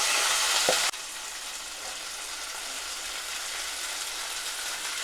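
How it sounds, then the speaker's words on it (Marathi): Finely chopped cluster beans (gavar) drop into a pan of hot oil with browned garlic, a loud burst of sizzling that settles into a steady, even frying hiss, close and without talk. "आता मी पाव किलो गवार घेतलेली आहे बारीक कापून स्वच्छ धुवून ती टाकायची सर्वात पहिला"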